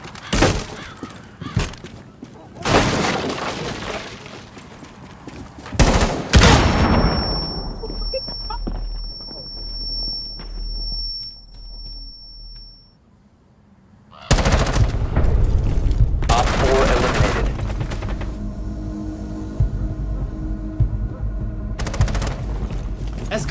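In Rainbow Six Siege, loud bursts of automatic gunfire crack and rattle in long volleys with thuds and shattering between them, and a stretch of quieter in-game noise with a high ringing tone breaks up the shooting.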